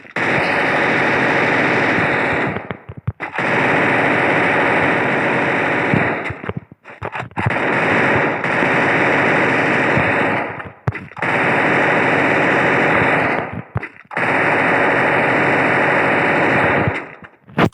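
Sustained bursts of rapid automatic fire from an upgraded level-three MP5X submachine gun in the mobile shooter Free Fire, loud and close, in four long volleys separated by brief pauses.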